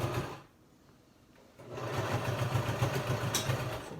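A sewing machine stitches bias tape onto a fabric mask, running in a steady close whir, pausing briefly, then resuming at an even rhythmic pace.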